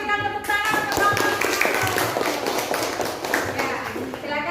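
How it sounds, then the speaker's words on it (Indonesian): A class group claps together in a classroom, a dense run of hand claps filling the whole stretch with voices mixed in underneath. "Oke, kelompok 1 kita berikan tepuk tangan ke kelompok"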